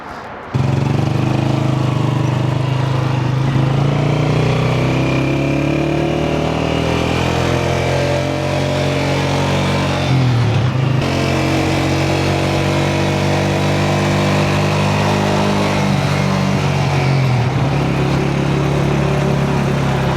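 A motorcycle engine runs continuously, loud and close, with a steady droning hum whose pitch dips briefly twice as the revs change. No one speaks over it.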